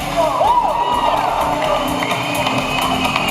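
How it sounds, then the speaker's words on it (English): An audience at the Star Nissan dealer awards gala applauds and cheers the Dealer of the Year winner, with steady clapping under whistles and whoops, loud and continuous throughout. "Give him a big round of applause"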